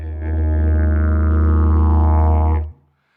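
A didgeridoo played with vibrating lips gives one loud, continuous low drone with rich steady overtones, held for about two and a half seconds before stopping abruptly.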